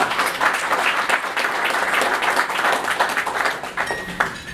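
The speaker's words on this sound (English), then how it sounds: "A quick round of applause for" Audience applause at a luxury real estate forum panel discussion, a dense steady clapping that fills the room throughout and thins slightly near the end.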